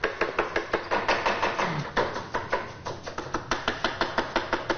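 Vegetables being finely chopped for lahmacun filling: a rapid, steady run of sharp knife strikes on a cutting board, close and distinct, with no talking.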